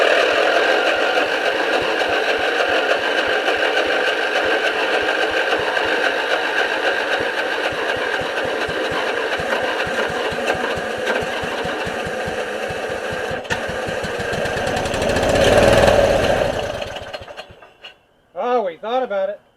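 A Murray-made Stanley GT lawn tractor engine runs roughly on starter fluid, a steady loud mechanical drone with rapid clatter that surges briefly near the end and then cuts out, followed by a few short bursts.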